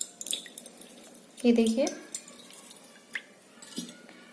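Coconut water dripping through a strainer into a vessel in a home kitchen, a few soft wet drips and a brief splash under a person speaking.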